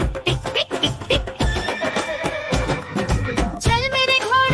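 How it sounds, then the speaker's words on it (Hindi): A horse neighs amid the music of a Hindi nursery rhyme about a trotting horse, the whinny rising over a loud, busy backing track, with a bright, wavering neigh near the end. "चल मेरे घोड़े चल"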